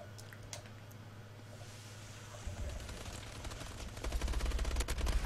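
Gunfire in the shooter game Call of Duty: Advanced Warfare, rapid bursts of shots that start faint and distant, then build into a louder, denser stream of automatic fire near the end.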